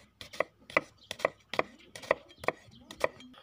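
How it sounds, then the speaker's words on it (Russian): Onion being cut into half rings with a knife on a cutting board, a series of about ten crisp, close chops in an uneven rhythm with brief rustles between. "Нарезали лук полукольцами"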